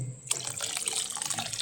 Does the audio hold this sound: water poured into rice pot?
yes